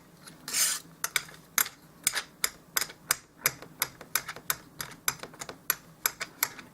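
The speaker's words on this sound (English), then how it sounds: "So now I'm chopping it back up so that we have little loose bits." Polymer clay is chopped into small loose bits with a blade for doll-size pot-stickers, making a rapid series of sharp, close clicking taps against a hard surface, about two to three per second, with no talking.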